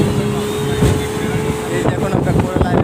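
A speedboat motor drones loudly and steadily as the boat runs across the sea between two islands near Pattaya's Coral Island, Thailand, with strong wind buffeting and voices talking over it.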